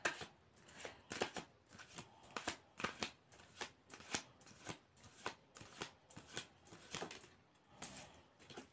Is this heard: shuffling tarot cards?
yes